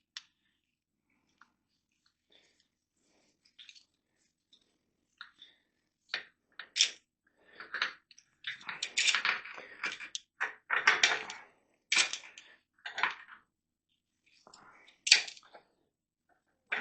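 An old-school chain breaker works on the drive chain of a 1976 Kawasaki KZ400, producing scattered close metallic clicks, scrapes and taps in irregular bursts with quiet gaps between.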